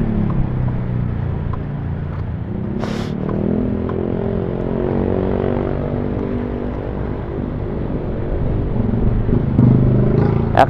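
A borrowed motorcycle being ridden, its engine giving a steady low rumble and drone that rises slightly toward the end, with wind noise and no talking.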